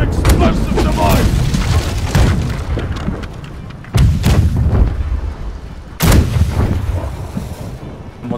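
An explosive device detonates during a naval battle in the pirate-ship game Blackwake, heavy booming blasts thundering loudly over continuous battle noise, with fresh impacts near 4 and 6 seconds and voices talking amid the chaos.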